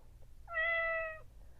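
A Chongker Percy interactive robot cat toy gives a single clear, tonal synthetic meow lasting under a second, alone against a quiet background.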